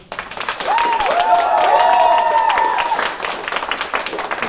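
Audience applause and cheering for a band at a live concert, a loud sustained burst of clapping with a whistle-like tone rising over it, then tapering off.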